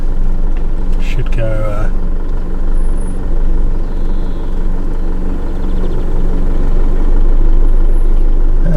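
Motorhome idling and creeping forward as its right-hand wheels drop into a hole while parking, a steady low engine rumble throughout with a brief clunk and squeak early on, under a short spoken remark.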